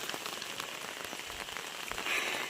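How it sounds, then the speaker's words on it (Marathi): Heavy monsoon rain pours steadily, a dense even patter of drops on surfaces, close and continuous, with no voices. "आता भरपूर पाऊस पडतोय"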